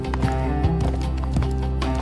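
Hooves of small Mongol steppe horses, wrapped in thick cloth, cross the wooden planks of a river bridge, sounding as a steady run of muffled clops over a continuous low drone.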